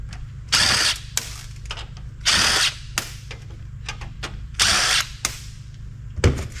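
A power driver fitted with a 1/4-inch socket whirs in several short bursts while backing screws out of a computer power supply. Small clicks and handling noises fill the gaps between the bursts.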